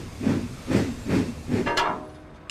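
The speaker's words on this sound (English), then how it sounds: "So Emily puffed away to get her snowplow fitted." A steam engine puffs in four rhythmic chuffs, then gives a brief sharp hiss of steam as the sound fades, close and moderately loud.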